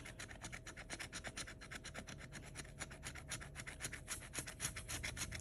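A coin or fingernail scrapes steadily across an Emerald Mine 9X scratch-off lottery ticket in fast, continuous rasping strokes, close to the mic with no voices.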